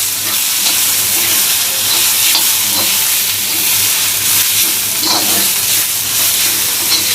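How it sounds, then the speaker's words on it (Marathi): A spoon stirs a masala, turmeric and salt mixture in a pan on a tawa for a Malvani dry jawla dish, with a steady, fairly loud sizzle and scraping throughout and no talk. "किंचितशी हळद चवीप्रमाणे मीठ आणि हे परत सगळं मिक्स करून घ्यायचं आहे"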